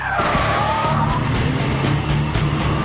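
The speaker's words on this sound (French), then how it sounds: "Les deux voitures accélèrent jusqu'au drapeau rouge." Two cars accelerating hard toward a red flag during a spy-car demolition test, loud sustained engine roar with rising revs and a squealing tire tone throughout, no talk.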